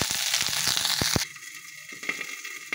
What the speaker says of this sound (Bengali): এবার দিয়ে দেবো ফুলকপি। ফুলকপিটা আমি ঢাকা দিয়ে ভাজবো।